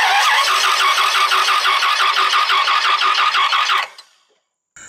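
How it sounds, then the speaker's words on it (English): Dodge Ram 2500 V10 engine cranking over without starting, a loud, steady rhythmic whirring of the starter that runs for nearly four seconds and then cuts off, heard up close with no talking. "While I crank this engine over, I want to see if these actually blink."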